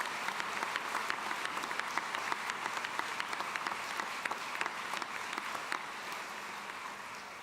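An audience at a commencement ceremony in Gentile Arena fills the space with sustained, dense applause, many hands clapping steadily together from start to finish.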